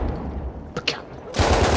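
Gunfire in the Battlefield 1 video game crackles faintly under dense game noise, then swells into a loud, continuous burst near the end.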